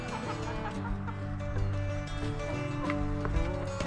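Chickens cluck steadily and fairly close, with overlapping calls from several birds in a busy coop.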